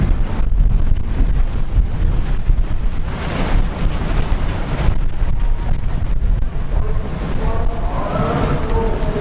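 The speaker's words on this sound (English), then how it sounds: "Here we are in the marina. It's very windy." Strong wind roars across the microphone at a Red Sea marina in Hurghada, a loud, constant buffeting rumble with faint water and boat sounds beneath it and no speech.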